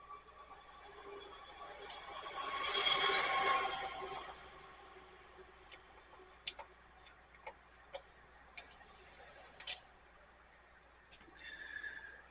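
A Sony VO-5800 U-Matic VCR with poor solenoid engagement lets out a shrill squeal during playback, rising and fading over a couple of seconds, followed by scattered mechanical clicks and ticks in a quiet room.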